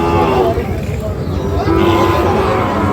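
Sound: Sahiwal cattle mooing at market

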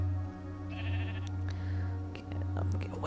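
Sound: sheep bleating in the video game Minecraft

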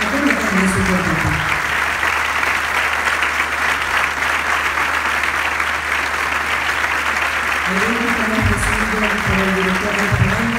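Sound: warm applause at a band concert

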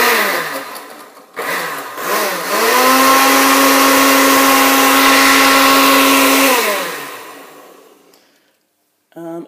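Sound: blender mixing beer milkshake with ice cream

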